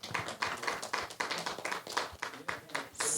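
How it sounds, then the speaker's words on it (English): A small group claps in a ragged, uneven rhythm at a hope and health event, distinct individual claps close by, with no speech. "let's give her a round of applause"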